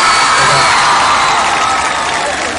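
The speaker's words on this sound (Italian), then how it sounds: "Thomas, fate un applauso alla timidezza di Thomas" A big outdoor concert crowd at a show in Cisterna di Latina cheers and applauds, a loud, dense roar of clapping, shouts and whoops that holds steady and eases slightly toward the end.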